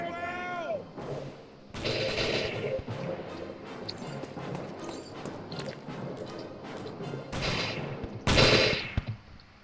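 Roblox combat game with dense gunfire and machine-gun bursts, sustained rattling shots with a few louder blasts near the end, with voices mixed in.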